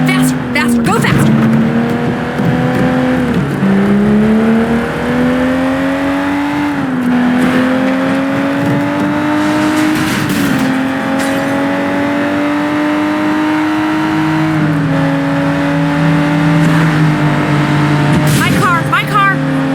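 In the Sleeping Dogs video game, a car engine revs hard through a chase, climbing and dropping in pitch with gear shifts, loud and close, with occasional tyre noise while voices talk over it.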